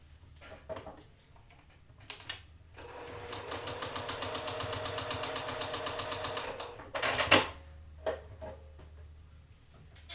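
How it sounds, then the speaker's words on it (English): A sewing machine runs a steady seam down the side of pieced quilt blocks for about four seconds, a close, even mechanical whir with a rapid rhythmic needle beat, framed by brief handling clicks before and after. "we're going to sew down the side"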